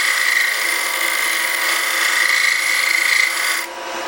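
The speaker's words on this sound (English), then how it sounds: "start doing scraping if I want to take finer and finer cuts over" Wood scraped on a lathe with a negative-rake tool while turning a small box, a continuous close, loud rasping whir with a steady whine that eases as the tool lifts off near the end.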